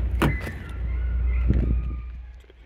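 A 2009 Toyota Crown's power seat motor hums steadily at close range, accompanied by a few clicks and rustles, then fades out toward the end.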